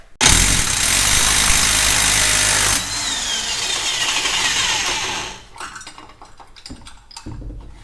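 An impact gun blasts loudly against the crankshaft pulley bolt on a Dodge Dakota R/T, a sustained harsh buzzing burst that stops, followed by scattered clanks and rattles of tools and parts nearby.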